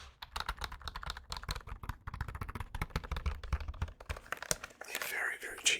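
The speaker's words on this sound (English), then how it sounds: "It's just a cheap membrane keyboard." Rapid typing on a cheap HP membrane keyboard, a dense run of soft, muffled key taps close up with a brief crinkling rustle near the end.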